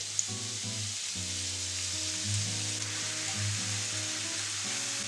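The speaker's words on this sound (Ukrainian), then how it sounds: "На розігріту сковорідку наливаю олію" Steady, loud sizzling of leeks frying in hot oil in a pan continues throughout, with a faint scrape or stir now and then.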